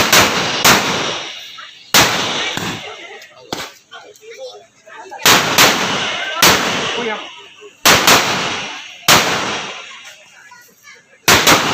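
Large firecrackers burst at an Indonesian wedding procession escort. Several loud, sharp bangs go off one after another, each trailing into a crackling decay, with voices faintly in the background.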